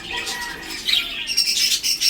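A Hagoromo canary, a 12-back bird kept in a backyard aviary, gives a run of thin, high squawks and chirps that grow more frequent toward the end, close and fairly clear against a soft hiss.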